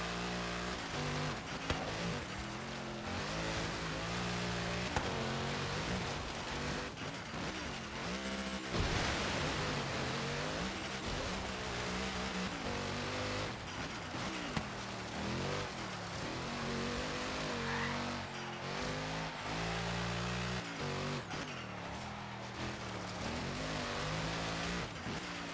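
Engine roar of a Mercedes race car in Forza Horizon 3, continuous and loud with rising and falling revs through gear changes over a full lap, with no talk heard.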